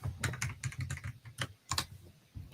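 Fingers type on a computer keyboard in quick, irregular bursts of clicking keystrokes with short pauses between, close and fairly soft in a quiet indoor setting.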